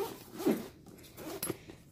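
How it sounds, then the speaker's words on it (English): A zipper on a planner work bag is pulled closed in one quick, fairly close rasping run, followed by a few softer fabric rustles. "So let me zip this back."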